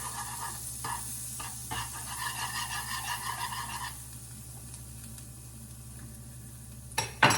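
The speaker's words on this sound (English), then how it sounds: "take a few more pieces of garlic and flick them right into the middle of your pan" Garlic pieces dropping into sizzling butter in a frying pan: a steady close-up hiss with spitting crackles and small bursts as each piece lands, easing off partway through, then a brief louder clatter at the end.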